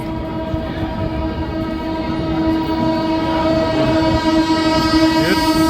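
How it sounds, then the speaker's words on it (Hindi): Bhubaneswar Tejas Rajdhani Express train passing a level crossing, a steady loud rumble of wagons with sustained horn-like tones throughout, close by and without talk. "ये वो आ गई भुवनेश्वर तेजस राजधानी एक्सप्रेस"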